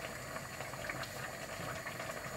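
Potatoes simmer in a pot over an open fire for homemade baby food, giving a steady, close bubbling hiss that continues evenly throughout with no talking.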